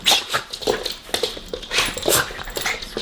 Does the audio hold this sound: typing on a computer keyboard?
no